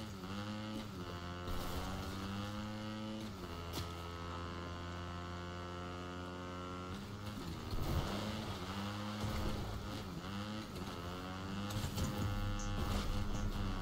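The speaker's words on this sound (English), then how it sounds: "I'm just gonna keep driving the dirt bike." A dirt bike engine in the video game Fortnite hums with a buzzy, tonal drone that rises and falls in pitch several times as the bike is driven, with no talking over it.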